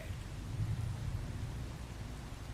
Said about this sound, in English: It's been raining a lot